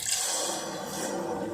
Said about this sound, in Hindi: तो अब व्यूअर्स हम इसमें 1 गिलास पानी डालेंगे